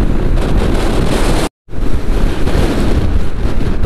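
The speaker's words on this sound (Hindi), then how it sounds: "अभी हवा इतनी तेज चल रही है कि अच्छी खासी बाइक की स्पीड को रोक दिया उसने।" Strong wind roars over the microphone on a mountain road in Lower Mustang, Nepal, during a motorbike ride near Muktinath, a loud continuous rumble broken by one brief dropout.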